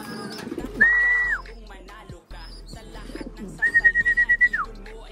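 A pigeon kept in a cage coos twice, each a drawn-out whistling call, the second breaking into a quick pulsing burst, close by amid faint background noise.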